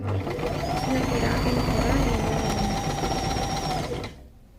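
A new domestic sewing machine runs steadily at close range with a continuous whirring hum for about four seconds, then stops abruptly, leaving a quiet tail.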